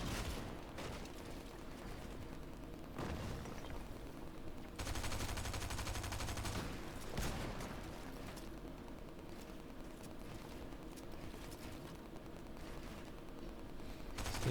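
Rapid shotgun blasts and gunfire crackle through a dense, noisy video game firefight in a solo cash cup match, with a sustained burst of shots midway over constant game background noise.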